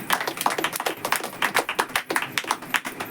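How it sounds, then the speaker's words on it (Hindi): A church congregation clapping in a steady, fairly quick rhythm of distinct hand claps, moderately loud and close, with no talking over it. "ताली होना चाहिए इस बात में।"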